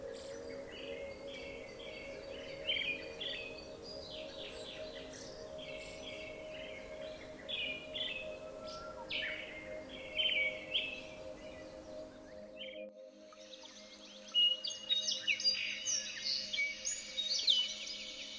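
Several birds chirp and sing in short repeated bursts over a steady low hum in the Great Smoky Mountains, with brighter, busier calls toward the end.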